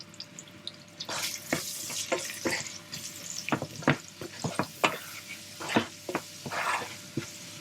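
Food frying in a pan in a kitchen during a courgette and chickpea dish, with a soft sizzle under a run of sharp clinks and scrapes from stirring, close and irregular.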